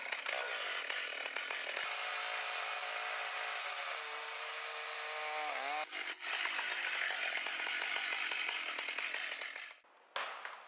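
A chainsaw cuts into a giant tree during felling, a loud continuous engine whine that dips and shifts pitch as the bar bites, briefly cutting out near the end before roaring back.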